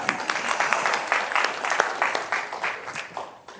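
An audience at a business summit breaks into applause, a dense patter of many hands clapping at moderate volume that thins slightly toward the end.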